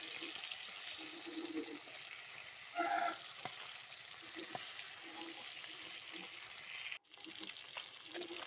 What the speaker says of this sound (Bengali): অপর পাশটা উল্টে দিচ্ছি যাতে দুপাশ সুন্দরভাবে লাল লাল করে ভাজা হয়ে যায়